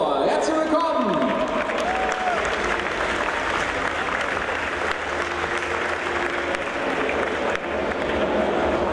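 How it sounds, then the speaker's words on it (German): An audience applauds steadily for a woman introduced as a female witch doctor, the dense clapping filling the room and holding at a constant level throughout, with a brief voice rising over the crowd near the start. "Applaus für Michelle"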